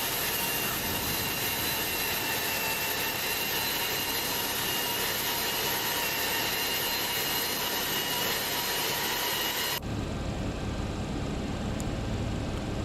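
Boeing 767 engine two spooling up in a flight simulator, a steady loud broadband jet roar with a high whine that cuts off sharply near the end, leaving a quieter hum.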